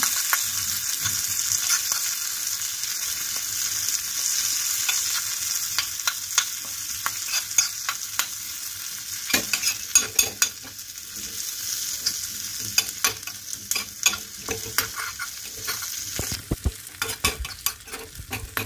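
A spoon stirs curry leaves, garlic and spices frying in a pan, making a continuous sizzle broken by repeated scraping and clattering strokes that grow busier and louder partway through, up close, with no talk.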